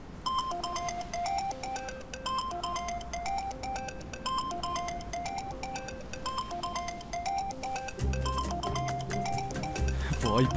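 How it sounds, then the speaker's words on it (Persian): A mobile phone rings with a bright, repeating melodic ringtone that plays steadily, joined near the end by a louder burst of music and sound effects. "وای بازم مامانم زنگ زده."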